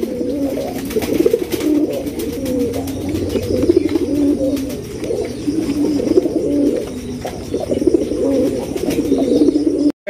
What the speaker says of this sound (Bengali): একদম বিশাল সাইজে একজন ইন্ডিয়ান বোম্বাই কবুতর